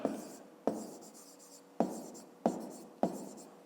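A pen writes the numbers of a long division by hand for a fifth-grade math exercise: five sharp taps on paper, each followed by a short scratchy stroke, irregularly spaced, close and quiet.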